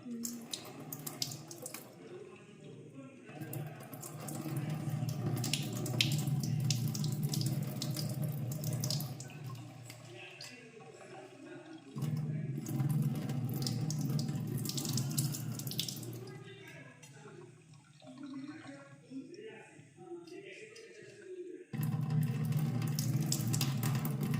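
Water runs from a kitchen tap while fresh cashews soaked in hot water are peeled, a steady splashing stream that stops and restarts several times, with occasional talk nearby.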